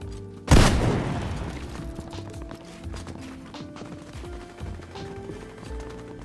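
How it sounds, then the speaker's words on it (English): Weapon auto-firing during a Fortnite Chapter 5 match on Xbox, a loud boom at the start followed by a dense stream of rapid, steady gunfire and game effects with no talk. "my controller's auto firing"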